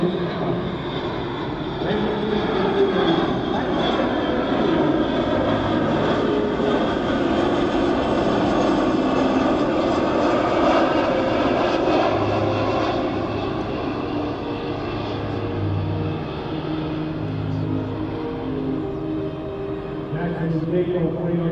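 A KC-135R Stratotanker flies past at an airshow, its jet engines producing a loud, steady roar with a broad whine that holds for the whole stretch, while a voice talks faintly underneath.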